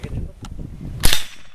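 A single sharp crack from a Mexar .22LR rifle fired at steel targets outdoors, loud and close, with a brief ringing tail after it.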